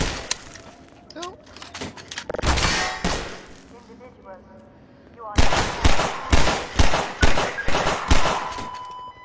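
Gunfire in Half-Life 2 played in VR on a Meta Quest: sharp loud shots, a few scattered early, then a rapid run of about eight evenly spaced bursts near the end, with someone talking in between.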